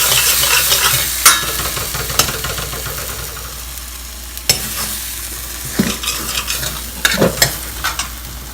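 Tomatoes and masala sizzle in a pan as tadka for aloo tamatar curry, a loud close crackle that eases off, punctuated by several sharp spoon clanks and stirring scrapes, with no voices.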